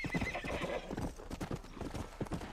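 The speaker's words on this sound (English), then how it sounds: "Horse, come back. I'm chasing my horse." Horse hooves clip-clop at a gallop with a whinnying neigh in the Red Dead Redemption video game, a steady loud hoofbeat rhythm with no talk over it.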